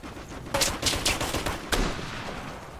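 Heavy gunfire in the video game Operation Flashpoint: Red River, several loud bursts of automatic fire close by, spaced irregularly with a final sharp burst before the firing fades into a low background roar.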